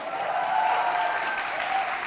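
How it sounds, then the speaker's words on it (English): An audience at a press conference applauds Evangeline Lilly and Paul Rudd, a short burst of dense, steady clapping from many people filling the room, with a faint voice in the background. "Big round of applause for Evangeline and Paul"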